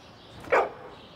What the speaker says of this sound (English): He's a well-mannered dog.